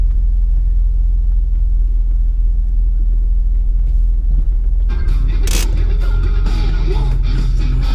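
A car engine idles steadily for about five seconds, a low continuous rumble, before a louder burst of broadband noise and rougher rumble takes over for the rest.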